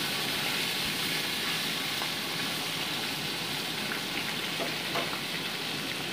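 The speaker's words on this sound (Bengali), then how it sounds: "এবার একে একে মাছের টুকরোগুলো আমি তেলের উপর দিয়ে দিচ্ছি।" Tilapia fish pieces fry in hot mustard oil, a dense, even, close-up hiss of sputtering oil that holds steady throughout.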